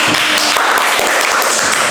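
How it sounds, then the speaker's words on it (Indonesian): A classroom of students claps for a classmate named Leli, a brief, dense burst of close applause that fills the moment evenly and then stops. "Beri tepuk tangan dulu untuk Leli."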